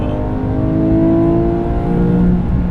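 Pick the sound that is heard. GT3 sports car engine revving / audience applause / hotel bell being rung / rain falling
GT3 sports car engine revving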